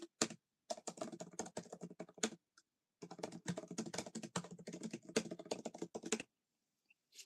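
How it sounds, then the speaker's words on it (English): Rapid, quiet clatter of a computer keyboard being typed on in two bursts with a short pause between, close and alone with no talk. "Sometimes I get into deep typing."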